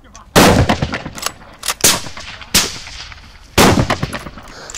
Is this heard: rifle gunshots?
yes